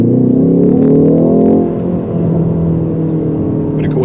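A 2020 Ford Focus ST with a 2.3-litre four-cylinder engine and automatic gearbox drives along, its steady engine drone loud and close from inside the cabin, easing slightly partway through.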